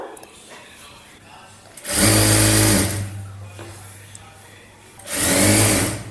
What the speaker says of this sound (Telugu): రెండో సైడ్ జాయింట్ వేస్తున్నాను